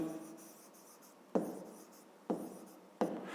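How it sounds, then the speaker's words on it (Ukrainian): A pen scratches out numbers by hand for a fifth-grade maths exercise, a close, dry scribbling with three sharper strokes starting new figures; no one speaks. "Ну і записуємо числа."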